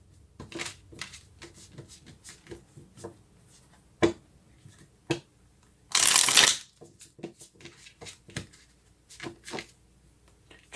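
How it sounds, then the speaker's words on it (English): Tarot-style clarifying cards handled and shuffled with care, soft scattered taps and slides building to one dense riffle burst midway, close and quiet, without talk. "Trying to be careful and not tear up the cards."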